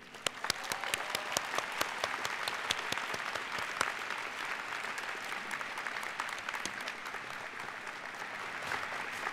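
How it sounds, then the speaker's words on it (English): Sustained, warm applause from a large audience at a college diploma and awards ceremony, with many sharp individual claps standing out across nearly ten seconds of steady clapping in a large hall. "A final warm applause to all of you."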